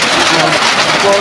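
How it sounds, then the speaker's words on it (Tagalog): Heavy rain pours down in a steady, dense hiss close by, with a faint voice murmuring underneath. "Grabe ang lakas ng ulan."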